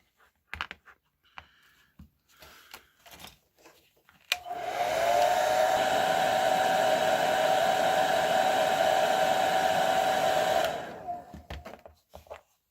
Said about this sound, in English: For this swap, I'm going to use a hair dryer.